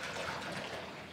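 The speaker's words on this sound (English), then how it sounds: "Let's pour water into our container." Plain tap water poured into a container for an emulsifier demonstration, a faint, soft, continuous trickle with no talking over it.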